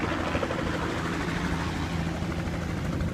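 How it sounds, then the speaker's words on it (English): A helicopter comes in to land near a car park, its dense rotor and engine roar steady, loud and close throughout with no one speaking. "here comes our helicopter"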